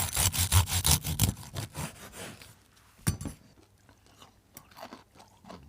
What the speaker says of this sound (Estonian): Täna krõbistame Martiniga vähe seanahka.